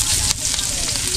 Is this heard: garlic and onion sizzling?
yes